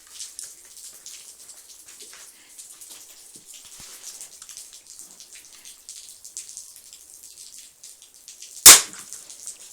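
A single sharp, loud snap-thwack of a Cobra crossbow firing near the end, standing out from a quiet background of soft hiss and faint ticking.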